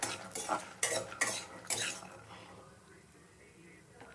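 Peanuts stirred in a pan with cumin, several scraping utensil strokes against the metal in the first two seconds, then quieter faint sizzling.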